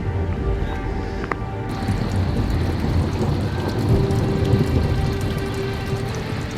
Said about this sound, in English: we got a bit of rain, but the sun's still out.